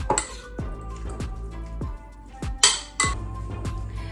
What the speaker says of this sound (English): Also just a pinch of salt and pepper. And we'll give it a mix.